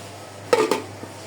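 A lid drops onto a cooking pot of flat beans, potatoes, radish and small fish, giving two quick, close metallic clanks in rapid succession over a quiet background.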